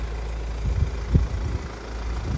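A 2017 Hyundai Santa Fe 2.2 diesel with automatic gearbox idles steadily, a low continuous rumble with a faint rhythmic knock, close and alone without any voices.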